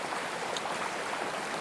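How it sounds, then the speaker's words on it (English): Cool creek water flowing past in a steady, close, broadband rush that runs unbroken throughout, with no voices. "gonna enjoy this nice, cool, refreshing creek"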